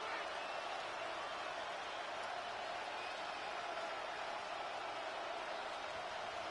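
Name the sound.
stadium crowd noise in Madden 26 video game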